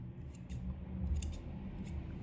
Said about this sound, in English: Might have a bit there that needs trimming, just slightly.